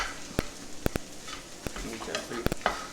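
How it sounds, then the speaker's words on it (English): Eggs for shrimp fried rice are scrambled in a pan, with a quiet sizzle under sharp, irregular clicks and taps of a utensil against the pan, all fairly faint. "your boy got to scrambling the eggs"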